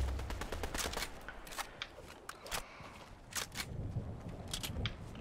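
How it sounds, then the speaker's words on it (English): A machine gun fires in Fortnite, sharp cracking shots coming in rapid clusters and short bursts, fairly quiet overall, with small mechanical clicks between volleys. "I'm just gonna laser him with the new machine gun."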